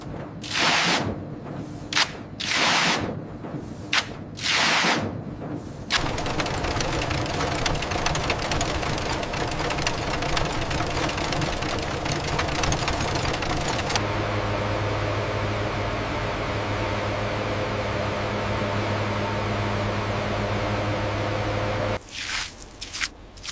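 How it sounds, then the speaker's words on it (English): A factory carding machine whose large rotating drums, covered in metal spikes, comb washed banana stem fibers. A loud, steady mechanical roar and hiss, opening with rhythmic pulsing bursts before settling into a continuous hum that later shifts to a lower drone. "The washed fibers are fed into the carding machine, where large rotating drums covered in metal spikes straighten them."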